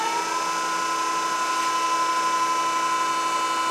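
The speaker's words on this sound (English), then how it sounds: "And we'll do a couple on-offs with the spindle." The spindle of a Denn RPI 300 CNC spinning lathe starts up, a steady, close mechanical whine with a strong tone that rises slightly at the start and then holds level.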